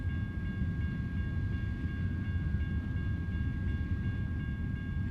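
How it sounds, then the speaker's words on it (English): A long freight train rumbles past a waiting truck in American Truck Simulator, a steady loud low roll with faint tonal squeals riding above it and no voices. "Goodness gracious, how long is this train?"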